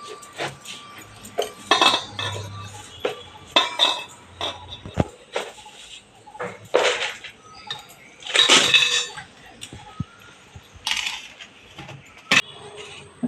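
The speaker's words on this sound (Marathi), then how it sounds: "आपण छानपैकी कलिंगड आणलेलं आहे, पण ते पहिल्यांदा कापून घेणार आहोत" A watermelon being cut with a knife in a home kitchen, giving a run of sharp clinking and knocking strikes, some crisp cracks and scraping, close and fairly loud with no talking.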